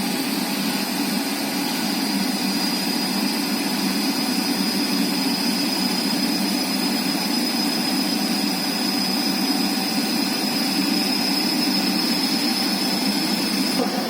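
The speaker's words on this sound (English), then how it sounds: "Vary the motor field rheostat and run the motor at a speed slightly greater than the rated speed," A DC shunt motor runs slightly above its rated speed in a machine test, giving a steady, loud, continuous hum and whine with a constant pitch throughout.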